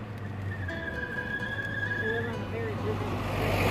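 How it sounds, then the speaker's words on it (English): Cars passing on a busy street during a walk, a steady nearby traffic rumble with engine hum swelling as vehicles go by, under faint background voices. "So if you hear cars going by, that's what's going on."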